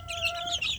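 Native village chicks in a rearing box chirp continuously, with dense overlapping high peeps close by over a steady low hum and no talking.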